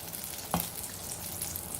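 Lauki (bottle gourd) pakoras frying in oil over a slow flame, a steady soft sizzle with a brief louder crackle in the middle, close and continuous with no talking.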